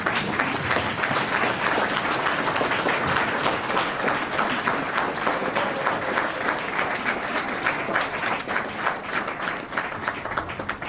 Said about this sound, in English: a round of congratulatory applause